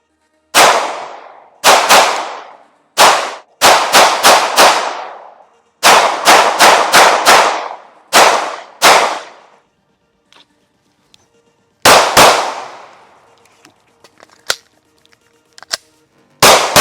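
A Glock 47 pistol fired outdoors at dusk in loud, sharp single shots and quick strings, paused between groups, with faint ringing after each crack and no talk.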